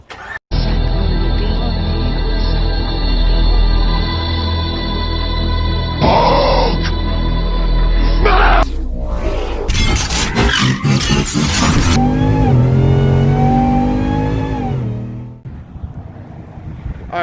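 Supercharged, cammed Ram truck with a new MBRP catback exhaust starting and revving: a loud, close roar with a steady low drone, sharp rising and falling revs midway, then a rumbling idle that fades out.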